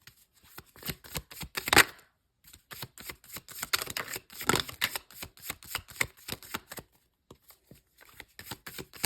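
Rapid, crisp riffling of a deck of playing cards, several bursts of shuffling with short pauses between, close and clear.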